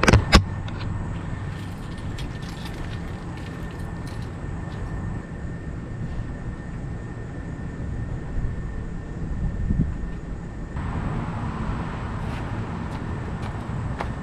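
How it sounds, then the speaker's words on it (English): A Jeep engine idles close by, a steady rumble after a brief starting burst, with a slight change in tone partway through. "So let's go start the Jeep,"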